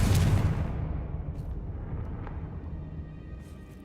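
A Confringo blasting spell explodes in Hogwarts Legacy, a loud booming burst at the start that fades into a long rumbling decay with no talk over it.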